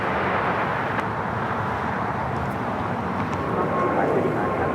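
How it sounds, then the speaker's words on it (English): Breeze Airways Airbus A220-300 airliner at LAX, a loud, continuous broadband jet roar that holds steady throughout, close and unbroken. "Breeze Airways flight 535 heading to Richmond, Virginia. Airbus, A220-300."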